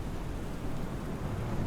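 A simulated thunderstorm at an airport in Microsoft Flight Simulator: steady, dense rain with a low rumbling undertone, continuous and even, with no other sounds.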